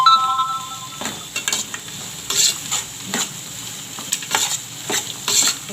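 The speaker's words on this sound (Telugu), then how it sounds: "ఉల్లిపాయ ముక్కలన్నీ బాగా వేపుకుందాం." Chopped onions and curry leaves sizzle in a hot pan while a spoon stirs them in irregular scraping strokes, with a steady frying hiss underneath.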